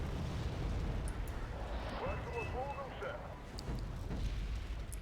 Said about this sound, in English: Now they're taking artillery fire.